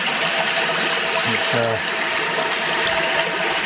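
Water bubbles and trickles steadily in a small koi pond, a continuous close splashing wash with a brief voice breaking in partway through.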